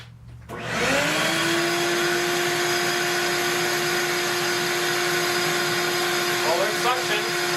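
A small vacuum motor used as dust collection on an older Craftsman table saw switches on and spins up to a loud, steady whine, running continuously.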